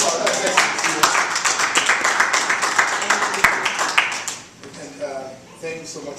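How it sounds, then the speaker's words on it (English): Audience applause after a speaker at a talk, a burst of close, distinct claps that fades out partway through as a voice begins speaking over the tail. "Give another round of applause."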